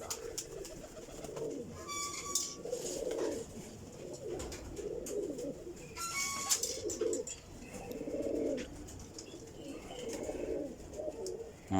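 Pigeons coo in soft, repeated throaty phrases at a pigeon seller's place, fairly quiet and close, with a few thin bird chirps and whistles breaking in between.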